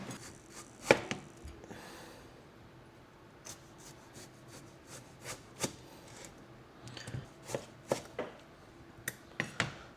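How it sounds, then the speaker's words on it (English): A knife chops a tomato on a cutting board in a series of sharp, close knocks, irregularly spaced and clustering toward the end, with no talking. "Now we're gonna cut the tomato"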